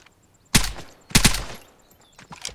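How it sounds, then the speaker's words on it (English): Gunfire in the video game Vigor: two loud, sharp bursts of shots, each a quick cluster of reports, with a quieter shot near the end and faint ambient noise between. "I'm shooting at random bushes to try to draw him out"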